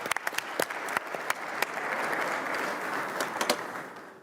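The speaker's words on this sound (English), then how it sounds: "let's give a nice round of applause to the Minister and the other members of our panel" Conference audience applauding a minister and panel at a UNIDO general conference plenary, scattered sharp individual claps swelling into a sustained, moderate round of applause before thinning out again.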